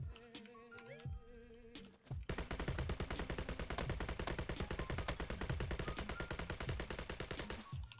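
Rapid gunfire in a Roblox battle royale game, sharp shots rattling in a continuous automatic burst for several seconds after a brief quieter stretch of game sounds, loud and close.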